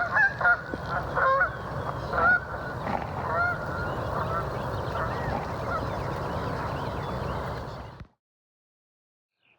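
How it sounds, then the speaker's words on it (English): A flock of geese on a lake honking loudly and continuously, many overlapping calls up close for about eight seconds before cutting to silence. "I'm finally herding geese."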